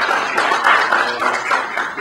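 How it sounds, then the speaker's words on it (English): Brief applause from an audience at a robotics talk, a fairly close patter of hand clapping that holds steady for two seconds without speech. "So let's first have a round of applause for David."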